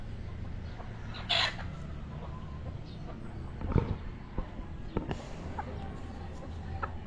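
Chickens cluck and call intermittently at moderate distance, with a brief louder squawk early on over steady outdoor background noise.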